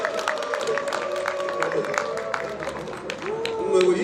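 Audience applause at a street protest against austerity, steady clapping from a crowd mixed with loud talking and voices throughout.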